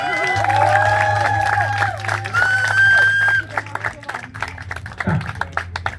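A crowd applauds and cheers the winning volleyball team Hafani at a village tournament in Mladovice, steady loud clapping with shouts, while an announcer talks over a PA with some audio feedback ringing.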